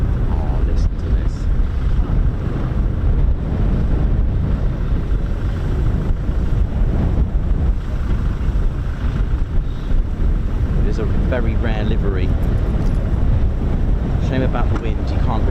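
Wind buffets the microphone at RAF Coningsby airfield, a Eurofighter Typhoon QRA station, as a steady, loud, rumbling roar that never lets up, while someone talks over it.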